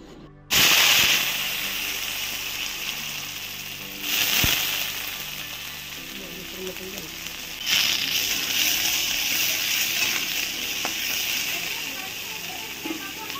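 Onion fries in hot oil in a pan for a potato curry, with bursts of loud sizzling hiss that flare up and settle again while someone talks over it.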